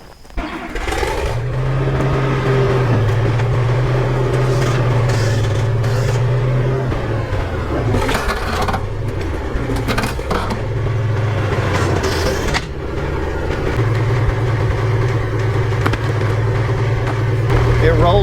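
An old tractor's engine runs loud and steady while it strains to drag a shipping container forward, a continuous close drone whose pitch dips and rises midway before settling again.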